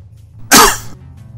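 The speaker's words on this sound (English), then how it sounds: "Again, sorry if I cough in the mic." A single sharp cough bursts close into the microphone, then quickly fades into near silence.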